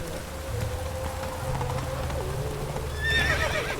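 Roach, a horse in the video game Witcher 3, neighs and whinnies over steady falling rain, with hooves clopping underneath and a louder, higher whinny rising near the end.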